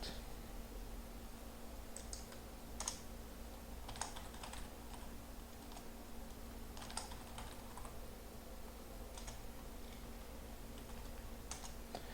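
Someone types a root password on a computer keyboard while setting up a virtual machine, producing scattered, fairly faint key clicks over a steady background hum, with no talking.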